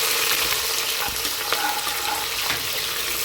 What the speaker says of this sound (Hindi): प्याज को हम भूनेंगे।